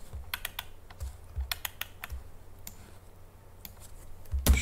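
Ctrl+G shortcut presses on a computer keyboard while modelling a cube, a run of crisp close key clicks in irregular bursts with a louder clack at the end.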